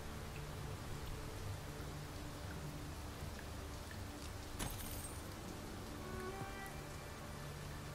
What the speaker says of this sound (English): it's raining and we have the cart without the roof on it